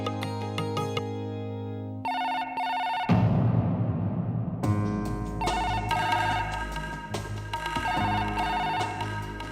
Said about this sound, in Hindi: प्रतिज्ञा फोन देखो।